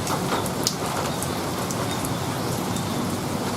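A warm dry-season rain shower falls steadily on a yard, a dense, even hiss of drops with a few sharper splatters up close, and no voices.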